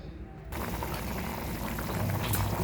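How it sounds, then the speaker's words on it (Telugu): Liquid in a cooking pot of mutton curry bubbles and boils with a steady close hiss after a brief quieter start, no voices present. "చూడండి ఉడుకుతుంది కదా"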